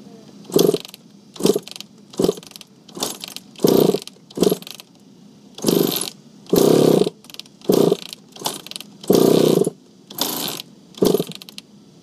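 A 1993 Suzuki RM80 dirt bike engine struggling to start: repeated short bursts of sputtering engine noise that catch and die in an irregular rhythm, loud and close, with no talk.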